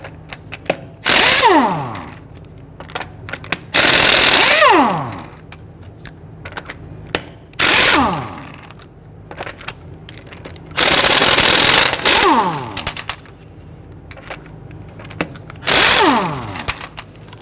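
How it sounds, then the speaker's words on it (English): A power tool with a 19mm socket zips lug nuts off the wheel of a 2010-2019 Ford Taurus in four or five loud bursts, each winding down with a falling whine, with clinks and handling sounds between. "Using a 19mm socket, loosen and remove the lug nuts."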